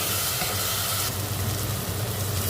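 Blended onion paste with green chilli and tomato fries in a pan for beef curry, giving a loud, steady, close sizzling hiss that runs unbroken throughout.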